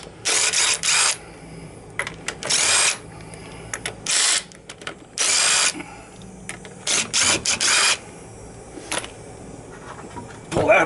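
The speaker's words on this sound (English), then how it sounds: "we're just going to get these lug nuts off" A power tool works the lug nuts off the front wheel of a 2003–07 Saturn Ion in loud, close bursts of whirring and rattling, each lasting about a second, separated by short pauses and small clicks, with no talk.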